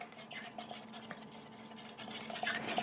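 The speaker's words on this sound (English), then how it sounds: "So I have a stir stick. Just give it a quick little stir." A stir stick swirls through a can of polyurethane finish, producing soft, quiet scraping and liquid sloshing at close range, with a few faint clicks against the can.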